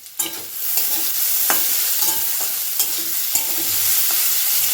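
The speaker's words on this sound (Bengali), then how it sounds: "তো এদিকে ভাজাটা হচ্ছে" Food fries loudly in a pan at close range, a steady hiss of sizzling oil broken by several sharp scrapes and knocks of a spatula stirring.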